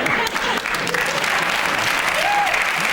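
A studio audience at a comedy panel show breaks into loud, sustained applause, dense and even throughout without letting up.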